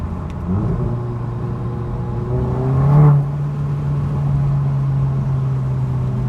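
A Cupra 300 DSG engine with resonator-delete exhaust drones low and steady, then swells in a brief downshift rev around the middle before settling back into a deep, even hum.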